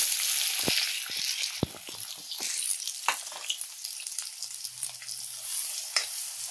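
Chopped onion frying in hot oil in a wok on a gas stove, a steady close sizzle with crackling pops and occasional stirring scrapes throughout.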